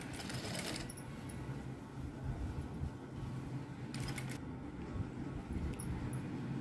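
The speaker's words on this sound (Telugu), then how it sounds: "బ్యాక్ పార్ట్లో ఈ నడుం దగ్గర ఒక 6 ఇంచు వెడల్పుతో స్ట్రైట్గా కుట్ అనేది వేసుకోవాలి." A sewing machine runs steadily while stitching a blouse, giving a faint, continuous whirring rattle at low volume with a few light clicks and no voices.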